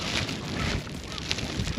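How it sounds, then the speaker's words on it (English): Strong wind buffets the microphone outdoors at a crab-catching spot, a constant loud rushing roar with gusty swells and no talk. "So windy right now."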